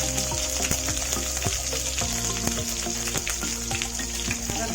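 Chopped green chillies crackle and sizzle in hot mustard oil along with whole five-spice seeds, a dense continuous frying hiss with scattered sharp pops throughout, close and steady with no voices.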